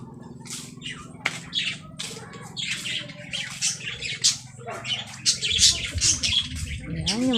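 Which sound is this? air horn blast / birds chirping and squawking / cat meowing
birds chirping and squawking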